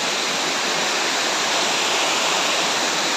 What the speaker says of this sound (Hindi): तो देखो झरना